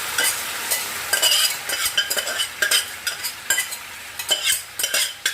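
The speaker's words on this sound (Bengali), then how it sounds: "এরপরে আমি এর মধ্যে দিয়ে দেব সেদ্ধ করা ডাল।" Boiled lentils being stirred into fried spice paste in a pan, with close, irregular scraping strokes of a spoon against metal over a steady sizzle, loud and alone.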